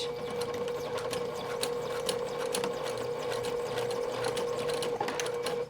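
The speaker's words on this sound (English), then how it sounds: "I'm going to back stitch over it twice to make sure it's secure." Sewing machine stitching a small fabric loop just under a 1/4 inch seam, a close, fast, even mechanical whir with rapid needle ticks running continuously throughout.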